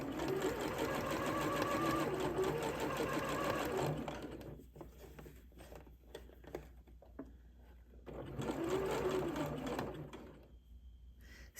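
A sewing machine runs in steady, fast bursts while topstitching around a dress neckline from the ties, pausing briefly in the middle before stitching again, close and loud.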